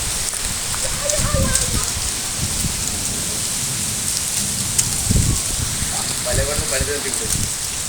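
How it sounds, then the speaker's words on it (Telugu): Steady rain pours down with a broad hiss, with low rumbles beneath and occasional voices in the background, falling after hot 42-degree weather. "వర్షం పడుతూనే ఉంది చూడండి"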